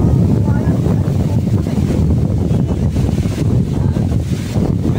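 Strong typhoon wind roars and buffets the microphone along Manila Bay, with large waves churning beneath in a loud, unbroken rush.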